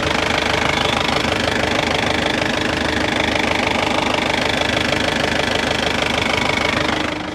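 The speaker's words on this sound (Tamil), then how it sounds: "இன்ஜினோட நைஸை லைவாக கேளுங்க" A car engine idles steadily and loudly up close, a continuous mid-pitched rumble with a fast, even knocking pulse throughout.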